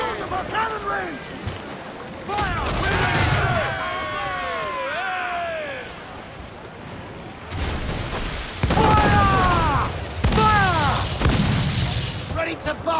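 Repeated heavy booms of ship cannon fire in a naval battle in the video game Assassin's Creed IV Black Flag crash amid rushing wind and surging water, with shouted voices and whooshing projectiles throughout.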